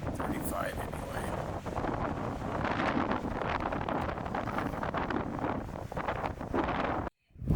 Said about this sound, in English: Wind's blowing probably gusting to 40